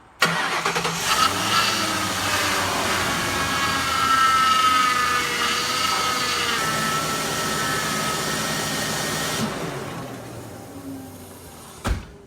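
A car engine cranks and catches after a power steering fluid refill, then settles into a steady mid-pitched idle for several seconds before shutting off with a brief final knock.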